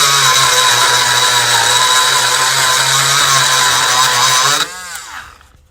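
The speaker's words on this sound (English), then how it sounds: "I just used my little die grinder and ground out" A small die grinder runs at a steady high whine, grinding paint off the bodywork of a 2010 VW Jetta during auto body repair, loud and continuous before cutting off and spinning down near the end.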